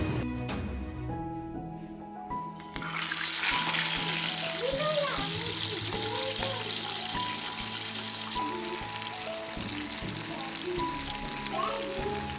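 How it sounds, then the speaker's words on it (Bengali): Pomfret fish frying in hot mustard oil crackles and sizzles up close, the sizzle jumping louder once the fish goes in and then staying busy and steady, with faint kitchen clatter around it. "আর তেলটা খুব ভালো করে গরম হলে তবেই আমি মাছগুলোকে দেব"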